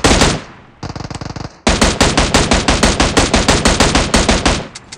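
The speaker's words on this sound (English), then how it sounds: "I just lie down and started shooting to get more, you know, accurate shots" Rapid automatic gunfire from shooting in PUBG Mobile: a short burst, a brief pause, then a long steady string of loud, evenly spaced shots that stop cleanly, with no talking.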